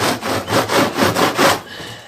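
Cloth wiping excess beeswax off a wooden Warre beehive part: about six rhythmic back-and-forth rubbing strokes, close and fairly loud, then a brief quieter tail.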